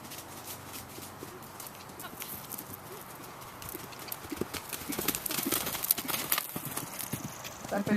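Hooves of a horse being asked to canter in a riding arena clip-clop in a steady rhythm, growing louder and closer toward the end, with an instructor's voice faintly in the background.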